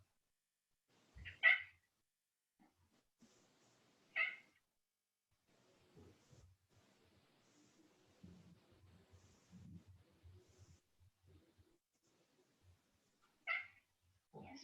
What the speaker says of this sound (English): Yes, kitties.